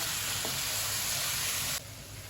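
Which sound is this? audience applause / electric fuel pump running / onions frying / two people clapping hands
onions frying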